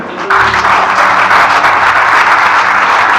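Loud, dense applause from a church congregation clapping for the Lord, a steady wash of many hands that starts abruptly and holds without letting up, close and full.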